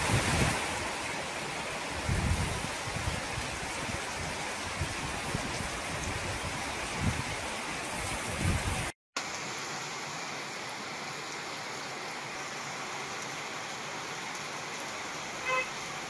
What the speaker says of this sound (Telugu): ఉమ్మడి వరంగల్ జిల్లా వ్యాప్తంగా తుఫాన్ ప్రభావంతో భారీ వర్షం కురుస్తోంది.